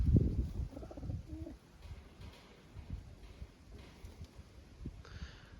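A young pigeon hatched this year gives a few soft, low coos close by, starting with a fuller burst and then tapering into faint murmurs amid light rustling.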